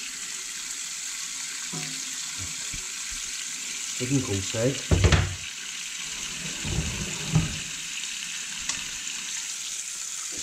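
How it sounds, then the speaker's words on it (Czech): Cold tap water running onto freshly made homemade sausages to cool them, a steady hissing flow with splashes and clatters of handling in the middle, and a brief spoken word. "Tak a už na to pouštím studenou vodu"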